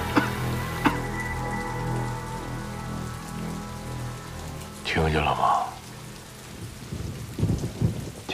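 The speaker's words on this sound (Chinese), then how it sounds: "听见了吗？听见什么呀？暴雨。" Heavy rain pours steadily around a detention facility, with thunder rumbling and a sustained low hum beneath; the storm swells louder about midway, then settles.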